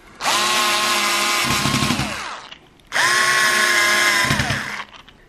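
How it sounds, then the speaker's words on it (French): A power drill drives screws into brackets while a cache-compteurs boxing is being built. There are two long, loud whining runs, each slowing and dropping in pitch as the screw seats, separated by a short pause. "quand on visse, la vis on est sûr qu'elle parte bien droit"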